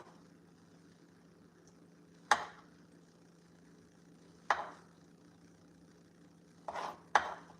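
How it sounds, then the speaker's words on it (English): Cherries drop one at a time into a bowl while a banana dessert is being made, giving sharp, isolated knocks spaced a couple of seconds apart against a quiet kitchen background, with a softer clatter just before the last one. "So now I'm just dropping the cherries in here."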